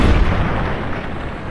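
Police pistol firing in Fallout: New Vegas Dead Money, a heavy booming report with strong low-end thump that rings out and decays over the next second and a half, no talk.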